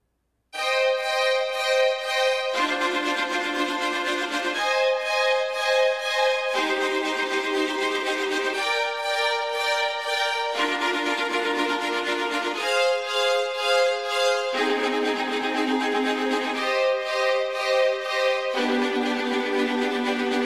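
Orchestral string ostinato from the 8Dio Century Ostinato library, violins and violas switching between two articulations in roughly two-second blocks, a steady rhythmic pulse that runs alone throughout.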